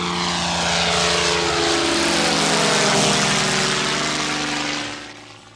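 Small propeller airplane flying over the Alaska wilderness, its engine droning loud and steady with a throbbing tonal hum, then easing off slightly at the end.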